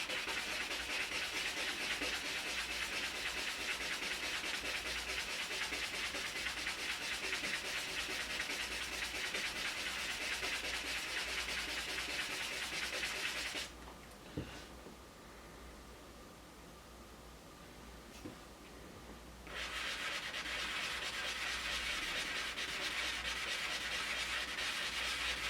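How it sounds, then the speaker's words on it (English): A resin piece being hand polished, heard as a steady close rubbing hiss that stops for several seconds partway through and then starts again, with no voices. "We are just basically polishing on here."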